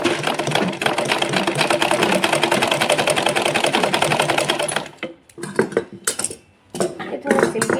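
A sewing machine stitches slippery silky saree fabric in a fast, steady mechanical rattle that runs for several seconds, then breaks into short stop-start bursts near the end.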